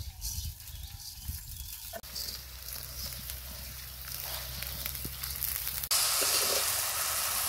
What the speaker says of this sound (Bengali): এখন দিয়ে দিব ধুয়ে রাখা পোলাওয়ের চাল